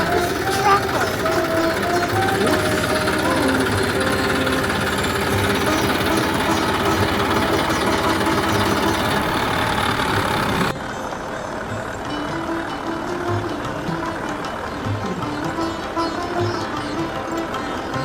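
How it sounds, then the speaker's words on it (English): A tractor engine runs on a farm, a steady loud mechanical drone with harsh rattling texture, dropping to a quieter rumble partway through. "Going in a farm. Yeah. Tractor."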